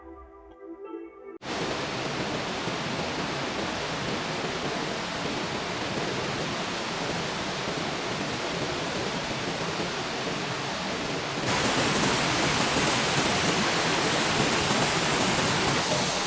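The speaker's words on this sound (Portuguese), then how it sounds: "chegou a ver essa cachoeira? Você viu? Isso é um rio que transbordou." Water roars continuously and loudly from a waterfall formed by an overflowing river, a dense steady rush that swells even louder partway through.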